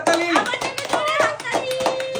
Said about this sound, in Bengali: চলো ঘোরাও, জোরে হাততালি